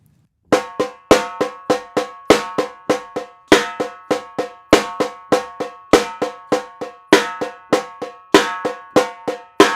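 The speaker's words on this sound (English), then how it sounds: "Or on the snare, it sounds like this." A snare drum plays a steady samba rhythm pattern of crisp, ringing strokes with regular accents, repeating evenly and heard up close without any voices.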